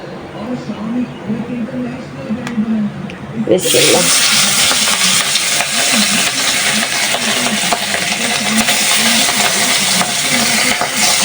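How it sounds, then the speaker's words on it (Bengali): A quiet stretch gives way to a loud, steady hiss of hot oil frying hilsa fish in a wok, continuing evenly to the end with faint kitchen noises beneath. "মাছগুলো ভাজবো"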